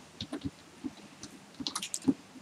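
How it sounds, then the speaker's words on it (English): Typing on a computer keyboard while entering date text into an Excel spreadsheet: soft, scattered key clicks in an uneven rhythm, close and fairly quiet, with no voice. "I am typing text"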